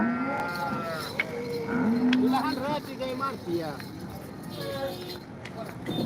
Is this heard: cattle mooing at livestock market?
yes